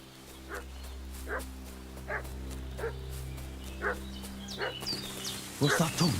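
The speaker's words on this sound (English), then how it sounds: "What's that dog making such a fuss about?" A dog barks repeatedly in the medieval video game Kingdom Come: Deliverance 2, with sharp, evenly spaced barks at moderate distance over a low steady ambient hum, growing busier near the end.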